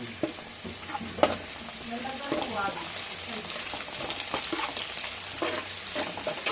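Onions frying in a pan for bagara rice, a steady close sizzle with stirring scrapes throughout, fairly loud and continuous.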